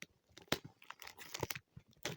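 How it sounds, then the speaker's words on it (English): Plastic wrapping is torn and crinkled off a Piratix toy pack close by, with quiet irregular rips and crackles in short bursts. "Plastic has been unwrapped."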